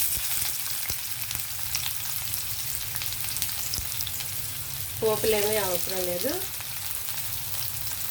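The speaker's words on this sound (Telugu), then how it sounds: "డైరెక్ట్ మనం ఆయిల్ హీట్ అయితే ఆనియన్ వేసేయడమే" Onions frying in hot oil in a pan for a raw banana, tomato and egg curry, giving a steady close sizzle throughout, with a brief stretch of speech partway through.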